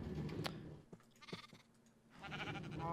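Sheep in Minecraft bleat several times, short wavering game-sound calls spaced apart, fairly faint and with no talk over them.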